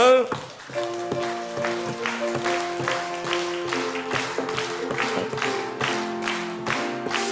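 A church congregation claps along in a steady, regular beat while singing a praise hymn together, the rhythmic claps riding over sustained sung tones and instruments throughout.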